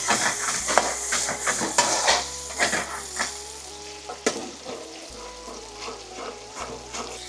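Tomatoes and fenugreek leaves sizzle loudly in a hot baghar tempering for tarka daal, with steady frying crackle broken by repeated scraping and clinking of a spoon stirring against the pan, close and without talk.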